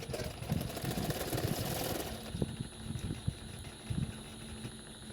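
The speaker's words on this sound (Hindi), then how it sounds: "उसके लिए मैं उल्टा करके इस तरह से सिलाई कर रही हूँ" A sewing machine stitches a hem strip onto a frock, giving a soft motor whir with light rhythmic ticking, busier at first and then thinner with sparse clicks, at close range.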